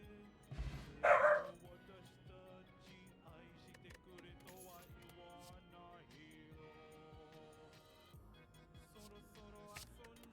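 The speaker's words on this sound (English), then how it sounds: "my dog just was very upset about something" A pet dog barks in a short burst of two or three loud close yaps near the start, then only faint room noise follows.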